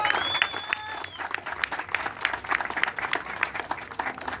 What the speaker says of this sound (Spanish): Vamos a darle un fuerte aplauso al jefe de gobierno